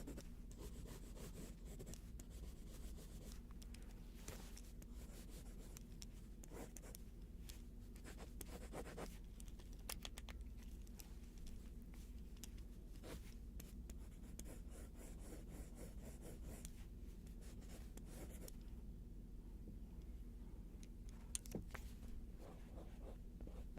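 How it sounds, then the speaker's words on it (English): Soft pencil scratching and rubbing on paper during a traditional drawing, a quiet, steady close-up texture of short strokes with occasional light taps. "Can you hear the scratchy drawing?"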